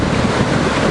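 Ocean surf breaks along a beach in a steady, dense wash of roaring noise, loud and close with wind buffeting the microphone.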